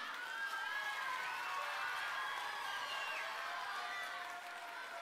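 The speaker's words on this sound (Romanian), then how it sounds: "Haideți să-l aplaudăm!" A school audience at a children's reading prize ceremony claps and cheers for a winner. The applause is fairly faint and distant, with some raised voices mixed into the steady crowd noise.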